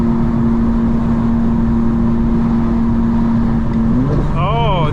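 A Porsche Turbo's engine hums steadily at a car meet, then shifts pitch and rises as it revs near the end, heard over constant loud background rumble and crowd noise.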